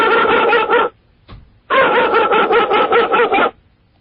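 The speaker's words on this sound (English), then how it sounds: "He has the same exact blast every time he barks." A loud pit bull barks over a phone line in rapid, bandlimited bursts, one long run of barks, a short gap with a faint yelp, then another sustained volley, with no talk.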